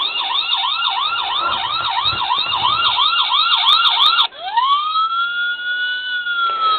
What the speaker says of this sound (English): Siren changes.